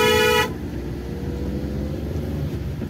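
A car horn blares loudly for about half a second on a winding hill road, then the car's engine and road noise continue steadily underneath.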